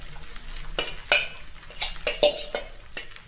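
Sabudana khichdi is sautéed in a pan, a spoon scraping and clinking against metal in several quick strokes over a soft sizzle close by.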